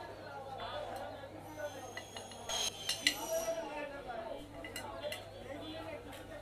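Crispy fried potato chips get mixed with spice powder in a metal bowl, giving light clinks and scraping stirs over a steady low hum. A person talks throughout.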